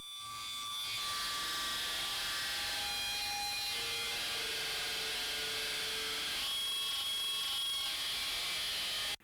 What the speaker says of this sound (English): it's just regular guitar feedback